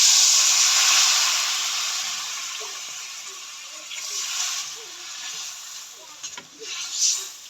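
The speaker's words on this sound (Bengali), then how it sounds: "ঝোলটা ফুটুক, বলক এসে করছে" Curry gravy heats in a pan, starting with a broad steady hiss that eases off and gives way to soft bubbling and light sizzle, close by.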